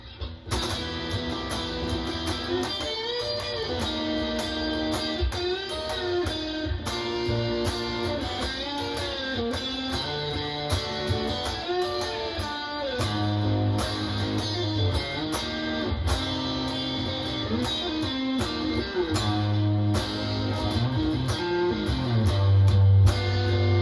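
An electric guitar plays a melodic riff in the style of a song's outro, with shifting notes and chords, steady and close, continuing without any talking.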